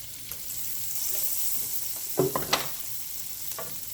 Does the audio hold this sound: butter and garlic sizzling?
yes